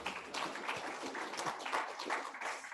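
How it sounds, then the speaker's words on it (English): An audience at an offshore wind forum claps for a minister, a faint, brief burst of scattered hand clapping that continues evenly throughout. "We can give her a round of applause if you like."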